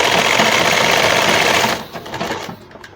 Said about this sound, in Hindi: ऐसी सिलाई लगाएंगे, लास्टिक सिलाई में ना दबे